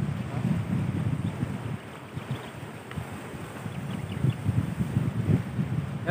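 Large sea waves crash and roll amid gusty wind buffeting the microphone, a rough, surging roar rising and falling.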